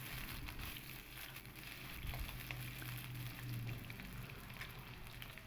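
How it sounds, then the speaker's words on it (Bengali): Cut potatoes frying in hot oil for a vegetarian aloo paneer dalna, a faint, steady crackling sizzle with soft pops throughout and no voices. "এবার আমি ওই তেলের মধ্যেই কেটে রাখা আলুগুলো দিয়ে দেব।"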